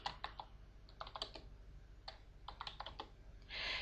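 Bursts of rapid keystrokes on a computer keyboard, clicking in quick irregular runs with short pauses, close and fairly quiet, ending in a brief hiss.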